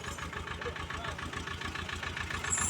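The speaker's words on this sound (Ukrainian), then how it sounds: "Трактор їде." A steady, rumbling tractor engine chugs nearby with a regular pulsing beat, growing slightly louder toward the end as it passes.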